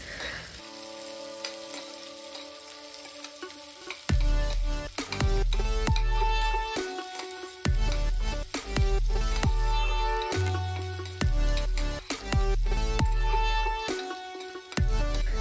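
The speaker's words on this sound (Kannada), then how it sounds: "ಈರುಳ್ಳಿ ಮತ್ತು ಕರಿಬೇವು। ಇದನ್ನು ಎಣ್ಣೆಯಲ್ಲಿ ನೀಟಾಗಿ ಫ್ರೈ ಮಾಡ್ಕೊಳ್ಳಿ।" Onion and curry leaves frying in hot oil in a pressure cooker pot, first a quiet simmer, then a loud crackling sizzle with repeated clanks of a spoon stirring.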